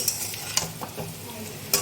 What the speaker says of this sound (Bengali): ভেজে নিতে হবে আলু আর পেঁপেটাকে। এই লাল লাল করে ভাজা হয়ে গেছে।